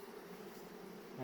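Honey bees buzz around a full hive box, a steady, even drone of many insects, soft and continuous with no pauses.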